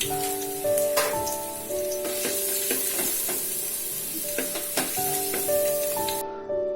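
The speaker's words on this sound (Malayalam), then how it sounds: "വെളിച്ചെണ്ണ ഒന്ന് ചൂടായിട്ട് വരുമ്പോൾ നമുക്കിതിലേക്കൊരു 2 അല്ലി വെളുത്തുള്ളി ചതച്ചത് ചേർക്കാം." Crushed garlic sizzling in hot coconut oil for a village-style South Indian mutton curry, a constant close crackling hiss with sharp pops and light stirring clinks, no talk.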